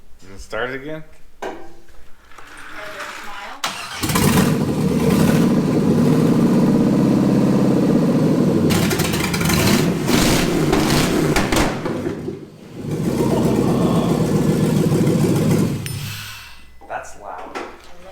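A Chevrolet Corvair engine is cranked and restarts after some clatter and voices, then runs loudly with revving for several seconds, dips briefly, roars again and shuts off.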